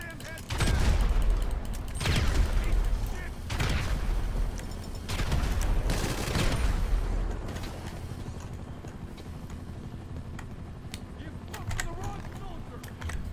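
Gunfire in GTA 5 Online, several loud heavy bursts of shots close by in the first half, then quieter game noise with faint clicking.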